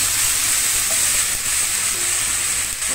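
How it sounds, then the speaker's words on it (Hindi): Ginger garlic paste with cumin frying in a hot pan for a mixed vegetable kofta curry, a loud, steady, close sizzle that runs unbroken with no talking. "जिंजर गार्लिक का पेस्ट थोड़ा हम भूनेंगे"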